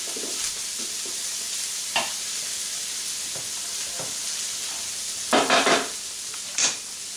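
Rice frying in oil in a pan, a steady close sizzle and hiss broken by several scraping stirs, a cluster of them near the end, with no voices.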